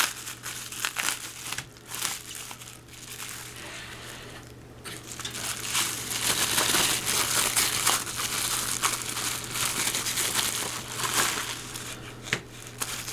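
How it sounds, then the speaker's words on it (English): Plastic Ziploc bag of Dystopian Wars starter set model parts crinkling and rustling up close, irregular crackles that grow busier and louder midway, with no speech. "More pieces, parts. And then the last Ziploc bag."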